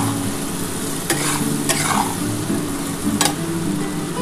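Ground cumin and ginger paste fries in hot oil with softened tomato, making a steady close sizzle punctuated by a few sharp scraping stirs of a spoon against the pan.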